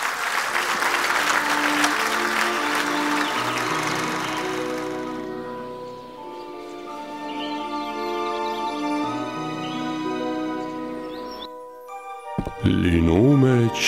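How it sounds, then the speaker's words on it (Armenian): An audience bursts into dense applause welcoming a director onstage, loud at first and tapering off, followed by music and a voice toward the end. "խնդրում եմ ծափարեք, ողջունենք"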